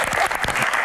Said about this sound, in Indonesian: Tepuk tangan untuk Mbah Tejo.